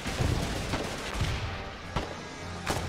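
Grenade blasts in the wartime game Foxhole: heavy booming detonations with rumbling tails, a couple of sharper bangs standing out near the end, loud and close with no talking.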